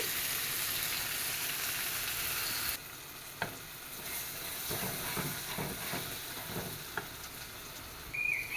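Tomato and onion fry in a pan as chili, coriander and turmeric powders go in, giving a steady, loud sizzle with a few scraping stirs and clinks.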